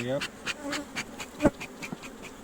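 Honeybees buzzing steadily close by around a hive, with repeated pulsing drones and one louder pass near the middle, no voices.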